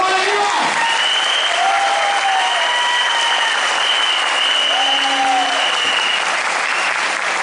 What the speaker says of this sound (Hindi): तो मैं एक बार चाहूंगा जोरदार तालियां आप सबके लिए।